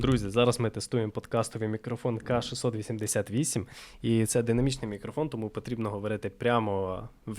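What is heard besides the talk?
No everyday noises stand out.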